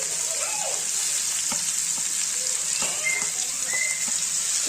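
Kizhanga fish pieces frying in a pan for a Tamil-style fish fry, with a continuous bright hiss of hot oil and scattered faint pops and clicks, no talking.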